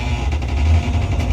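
A worn city bus on the 40 Exo route drives along a busy main road, its steady low engine rumble and road noise continuous and fairly loud throughout, with no talking.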